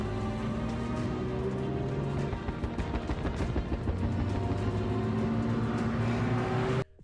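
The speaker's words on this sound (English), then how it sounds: "doing a wheelie in a car." A car lifts its front and drives on two wheels. The engine roars loud and rough with a rising, strained note, then cuts off abruptly at the end, with no talk.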